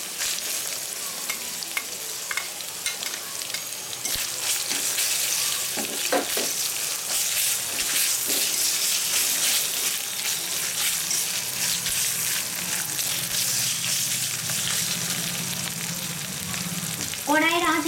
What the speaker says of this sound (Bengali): রসুন বাটাটা দেওয়ার পর একটু ভাজা ভাজা করে ওর গন্ধটা একটু চলে গেলে আমি দিয়ে দেবো আদা বাটাটা